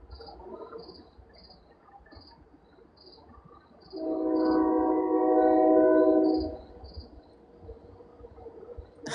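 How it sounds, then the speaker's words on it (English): A train passes in the middle of the stretch, its loud tonal roar swelling for a few seconds and then fading, over a steady chorus of crickets chirping in regular pulses. "You hear the train."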